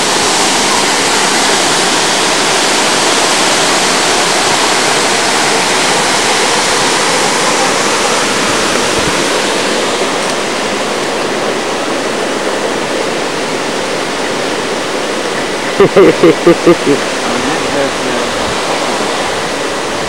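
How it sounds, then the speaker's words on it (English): A waterfall in a dry Australian landscape roars steadily and loudly, a dense, unbroken rush of falling water that fills the whole stretch, with a few brief clicks near the end. "here you got this nice waterfall in the middle of it"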